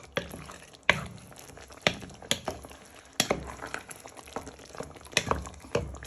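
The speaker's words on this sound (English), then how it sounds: "You want to add in your curly parsley into your pan. Give that a little bit of a stir in." Curly parsley is stirred into a chicken and red pepper stew in a pan: sporadic spoon clinks and scrapes land irregularly over a soft, wet simmering bubble.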